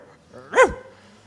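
A voice imitates a small chihuahua's bark, one short yappy call rising and falling, close and alone.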